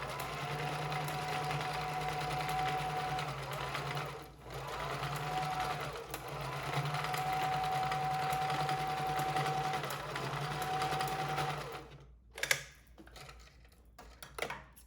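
A sewing machine stitches a fabric face mask in a steady whirring run, pausing briefly once midway, then stopping near the end with a few handling clicks and rustles.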